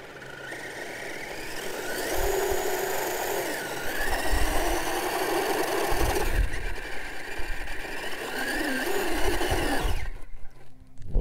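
Motor of an RC rock crawler with a 3-link Capra setup whines steadily as the throttle is applied, working over rocks with tires scrubbing and occasional knocks, then cutting out near the end.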